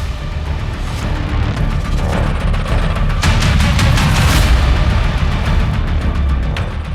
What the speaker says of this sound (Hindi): जब से बोला है पटाखे चलेंगे, तब से गोलियां चल रही हैं।